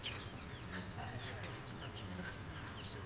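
Chickens cluck and call at an outdoor animal and bird market, the poultry sounds rising in short bursts over a steady crowd murmur and nearby talk.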